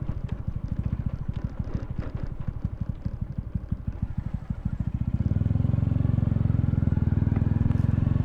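A motorcycle engine thumps along during a casual ride, a fast steady pulsing beat at first that settles into a louder, denser, continuous drone partway through, close to the rider, with no talking.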